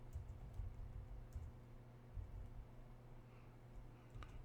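Computer keyboard typing during data entry in an office software program, soft scattered keystrokes at a close distance, quiet and intermittent with no talk.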